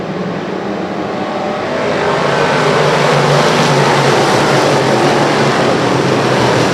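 Dirt track race cars roar off at the start of a feature race, a loud, dense wall of engines building and holding steady at close range, with no talking.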